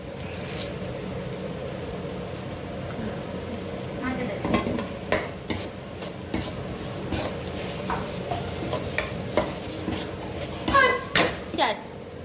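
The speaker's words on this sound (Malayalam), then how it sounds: "ചെറുതായിട്ട് ഫ്രൈ ആയിരിക്കുകയാണ്" Prawns for a Kerala-style prawn roast frying in a pan, with a steady low sizzle and scattered scraping and clinking of a spoon stirring against the pan, sharper utensil knocks near the end, under faint background voices.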